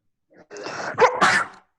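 A single close sneeze, with a short wind-up breath followed by two bursts, heard in an English lesson recording.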